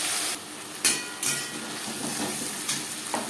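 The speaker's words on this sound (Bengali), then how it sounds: "তেজপাতা ভেজে নেওয়ার পর দিয়ে দেবো মশলা রসুন পেঁয়াজ আদা ও কাঁচা লঙ্কা বাটা" Garlic, onion, ginger and green chilli paste fries in hot oil for a fish-bone chorchori, giving a steady close sizzle with a few sharp spitting bursts and light stirring scrapes throughout.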